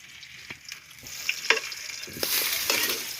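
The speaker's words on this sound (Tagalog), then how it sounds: "Haluin po natin ang ating kikiam," Kikiam fish balls fry in a pan while being stirred: a steady oil sizzle rises in strength, broken by close scrapes and clacks of the utensil against the pan, with no voices.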